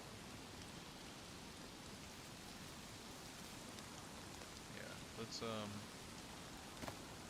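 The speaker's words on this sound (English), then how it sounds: "And it's starting to rain." Steady rain falls in the survival game DayZ, a dense even hiss throughout, with someone talking briefly near the end.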